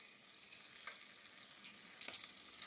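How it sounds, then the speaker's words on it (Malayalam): Cashews and raisins frying in ghee for an Onam carrot-ball dessert, giving a soft, steady sizzle and crackle up close with a few louder pops near the end. "അണ്ടിപ്പരിപ്പിട് ഫ്രൈ ആയി വരുന്നുണ്ട്"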